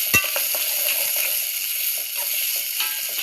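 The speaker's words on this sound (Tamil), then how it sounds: "இப்போ இது நல்லா வதக்கிக்கலாம்." Chopped large onions with curry leaves sautéing in a pan for a seer fish curry, giving a steady close sizzling hiss with a sharp crackle near the start and faint scrapes, no talking.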